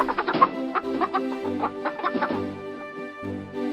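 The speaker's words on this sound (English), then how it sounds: "Just then, the hen started to squawk" A hen squawks and clucks in a rapid, agitated series of sharp calls, fairly close and clear, with no talking over it.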